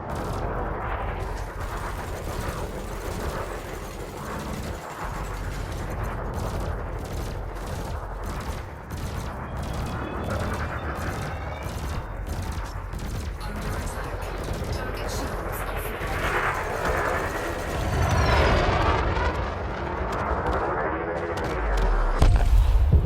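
Spaceship weapons in the space game Elite Dangerous fire in a sustained rapid stream of shots at targets, with dense rattling bursts under a steady engine hum that grow louder toward the end.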